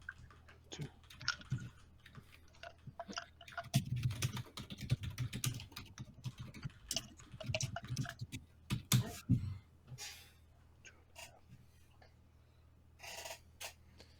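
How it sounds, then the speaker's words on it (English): Rapid, irregular typing on a computer keyboard, close and fairly quiet, with busy clusters of keystrokes that thin out toward the end. "Can you type that out?"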